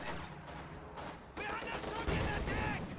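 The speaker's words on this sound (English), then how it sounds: "And the T-34 main gunshot seals the deal." A T-34 tank main gun firing in a Company of Heroes-style strategy game, sharp booming shots amid a dense battle mix of gunfire and explosions, with a commentator talking over it.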